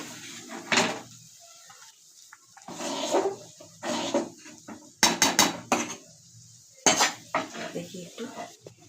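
Vegetables are tipped into a pot of simmering dal and stirred, giving sharp metallic clanks and scrapes of a utensil against the pot in irregular bursts, close by, with brief speech between them.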